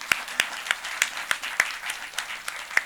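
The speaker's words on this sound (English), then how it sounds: "So the applause was definitely warranted." Sparse applause from a small audience at a conference gender-session panel, individual claps spaced irregularly and fairly close, with no talk over them.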